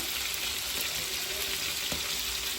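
Tomatoes tipped into hot oil for a chicken gravy sizzle steadily in the pan, a continuous close frying hiss with faint stirring clicks and no talk.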